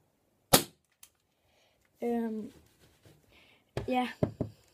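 An airsoft softgun fires a sharp, close snap, followed by a faint click; someone talks in between, then another quick pair of pops near the end.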